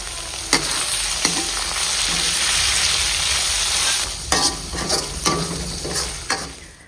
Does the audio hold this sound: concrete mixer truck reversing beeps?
no